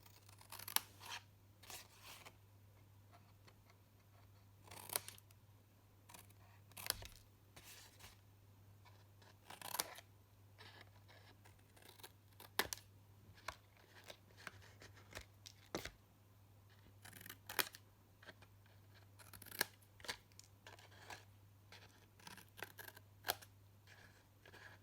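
Scissors snip repeatedly through paper card while trimming small corner bits, a crafting project for a petrol can gift slider box and matching card; sharp close cuts in irregular bursts over a steady low hum.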